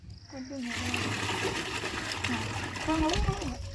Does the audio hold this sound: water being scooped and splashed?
yes